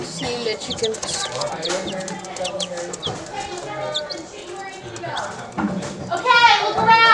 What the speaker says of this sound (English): I see the chickens.